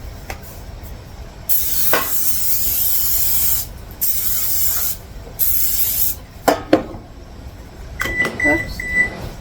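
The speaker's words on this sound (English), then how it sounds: "And I'm going to spray the pan." Cooking spray hisses into a cake pan in two long steady bursts at close range, followed by light clattering and handling noises.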